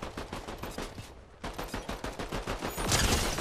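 Rapid automatic gunfire in a first-person shooter video game, loud and close, firing in steady bursts with one short pause before resuming more intensely.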